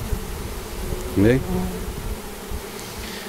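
Brazilian stingless bees and Apis honeybees buzz briefly close by, a short rising buzz that stands out over faint outdoor background while someone speaks French.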